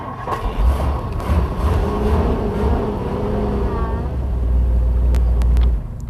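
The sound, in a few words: 1962 Ford Thunderbird engine being started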